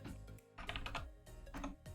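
A new computer keyboard clatters during a coding session, rapid clusters of keystrokes in quick irregular bursts with brief pauses between them, close and fairly quiet, with no talking.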